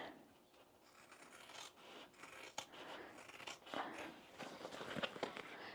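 Scissors snip and rub close by through handbag fabric, trimming a seam allowance down to a quarter inch with a string of quiet crisp cuts.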